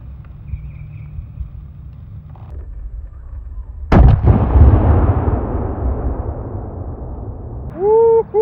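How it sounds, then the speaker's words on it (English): A Barrett 416 rifle firing 500-grain .50 BMG rounds at a fire hydrant outdoors: low rumbling ambience, then one sudden heavy blast with a long rolling echo fading over several seconds before a brief whooping cry near the end. "we've got the Barrett 416 with a Night Force scope. That's what we're shooting right there."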